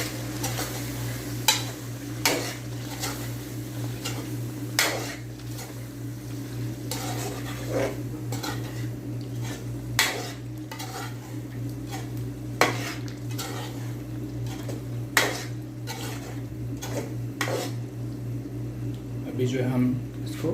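A spoon stirs yogurt into chicken karahi in a pan, giving sharp metallic clinks against the pan every couple of seconds over a steady low kitchen hum.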